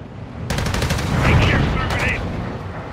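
Close machine-gun bursts in a Call of Duty: Modern Warfare 2 gunfight at sea: a rapid stuttering volley starts suddenly, with a second burst later and a voice over the din.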